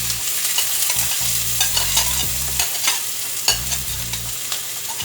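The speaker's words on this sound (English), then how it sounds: "We're gonna put the onions in here. Saute them a little bit." Chopped onions sauteing in a pan for lentil patties, a soft continuous sizzle broken by several scraping stirs of a utensil against the pan, close up with no talking.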